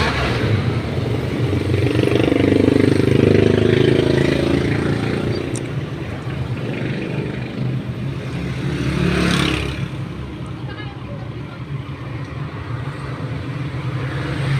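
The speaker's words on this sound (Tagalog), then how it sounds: "Ang daming sasakyan pa." Heavy road traffic passing a Sabon Station in Sadsaran, with a continuous rumble of car and motorcycle engines rising and fading as vehicles go by, close and loud, no talk.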